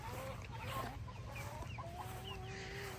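Chickens cluck in a garden, several birds giving soft, intermittent clucks and short calls at a moderate distance over a low steady background hum.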